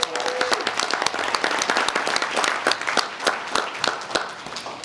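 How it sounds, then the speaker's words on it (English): A banquet hall audience claps in a sustained, dense round of applause at an NAACP Freedom Fund dinner, steady and fairly close throughout. "I think they deserve a little round of applause"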